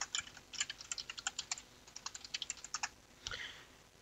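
Quick bursts of light clicking keystrokes on a computer keyboard while entering text in CATIA V5, close and quiet in a still room, with a final heavier key press near the end.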